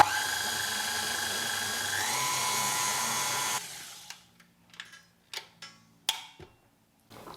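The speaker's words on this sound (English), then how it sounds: "I'm starting out with my shortening, and we're going to beat this up and just cream it first" A hand mixer creaming shortening in a bowl for nankhatai biscuit dough, a steady loud whir for a few seconds that then cuts off, followed by scattered clicks and taps.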